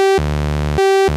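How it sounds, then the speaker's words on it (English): Synth oscillator running a square wave into an STG Soundlabs .MIX 3-input mixer, alternating a bright higher square tone with a chunky sub-oscillator tone an octave or two below, steady buzzing notes with no talk. "This is a sub oscillator."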